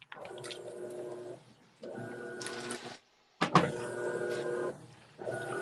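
A washing machine runs in repeated mechanical bursts of whirring and churning, each lasting about a second or more with short quiet gaps between them, heard fairly close with no talking.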